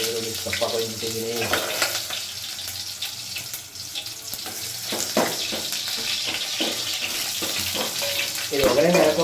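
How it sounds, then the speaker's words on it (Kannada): Mustard seeds crackling in hot oil for tempering, a busy sputtering sizzle running throughout with scattered pops and kitchen clatter, fairly loud and close. "ಸ್ವಲ್ಪ ಸಾಸಿವೆ ಹಾಕಂತೀನಿ. ಚಟ ಚಟ ಚಟ ಚಟ ಅಂತ ಹೇಳಿ"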